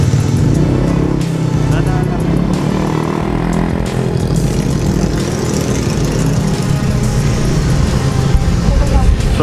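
Motorcycle being moved along a street as a car passes, with steady loud engine noise and traffic rumble throughout and voices talking in the background.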